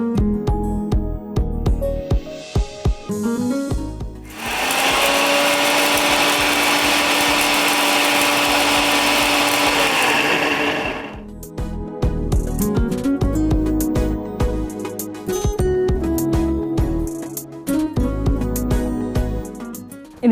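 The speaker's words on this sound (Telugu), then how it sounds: "ఇలా మిక్సీ పట్టుకోవాలి. ఓకే, పొడిలాగా అయిపోయింది కదా." Kitchen mixer grinder pulverising dried red chillies into powder, a loud steady motor whine that runs alone for about six seconds, with clattering and talk before and after.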